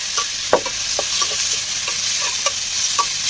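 Food sautéing in a pan over a clay stove, a steady sizzle broken by a few scraping stirs with a ladle, close and moderately loud, with no voices.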